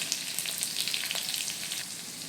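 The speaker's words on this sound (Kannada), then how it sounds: "ಇವಾಗ ಹಸಿಮೆಣಸಿನ್ಕಾಯಿ ಸ್ವಲ್ಪ ಬೇಯಿಸೋದು." Green chillies frying in hot oil in a pan, a steady close crackling sizzle with small popping spurts throughout and no talking.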